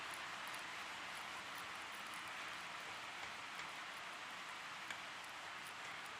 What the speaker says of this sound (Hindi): बारिश हो रही है काफ़ी तेज